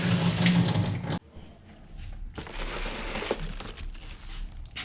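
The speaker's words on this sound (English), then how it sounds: "Making the 7M fill at home, filling it up with water." Water gushes loudly from a hose or tap into the cooling system of a Toyota 7M-GTE engine in a Mk3 Supra at home, briefly stops, then resumes a steadier pouring trickle.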